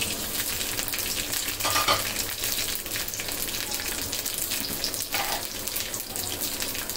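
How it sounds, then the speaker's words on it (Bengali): Five green chilies lightly frying in a pan for a spicy broiler chicken dish, a steady close sizzle with occasional stirring scrapes and a few brief splashy bursts. "5টা কাঁচামরিচ, এগুলো এখন হালকা ভেজে নিব মাংসটাতে দেওয়ার জন্য"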